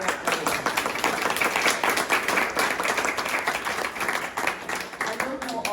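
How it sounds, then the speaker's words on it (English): An audience at a Veterans Day gathering in a mobile home community applauds an American Legion color guard, dense and continuous clapping from a crowd close by. "Let's applaud to them now"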